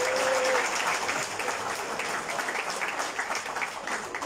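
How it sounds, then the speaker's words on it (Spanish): Audience at a PRI municipal committee swearing-in in Izúcar de Matamoros breaks into dense, steady applause, loudest at the start and then holding at an even level throughout. "Un fuerte aplauso para él."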